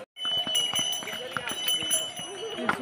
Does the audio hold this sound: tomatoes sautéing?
no